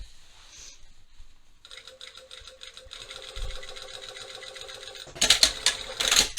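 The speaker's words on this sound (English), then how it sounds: "So I'm sewing onto the bulk of where we just pressed that whole fly piece." Sewing machine stitching through the thick, pressed fly piece on the front of a pair of jeans: steady mechanical stitching starts a couple of seconds in and runs continuously, getting louder and choppier in bursts toward the end.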